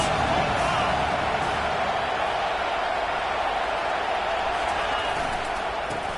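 Stadium crowd roaring during a big third-down defensive stand in an American football video game, a dense steady wash of crowd noise that stays at an even level throughout.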